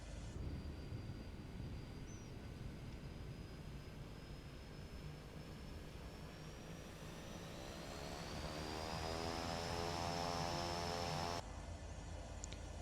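A Cessna 408 turboprop engine starting up in Flight Simulator 2024: a faint cockpit hum with a rising turbine whine that builds steadily, swelling into a fuller roar before cutting off near the end, with no talk.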